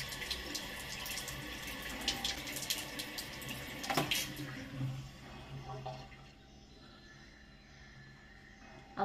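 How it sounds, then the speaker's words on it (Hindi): Running tap water splashes as a face is washed at a sink, a moderately loud irregular splashing for about six seconds before fading to quiet. "अभी यहाँ में मैं फेस को धो लेती हूँ"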